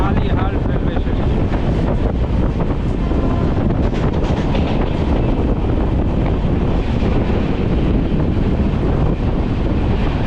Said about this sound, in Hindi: वेस्ट बंगाल संपर्क क्रांति हुगली रिवर क्रॉस कर रही है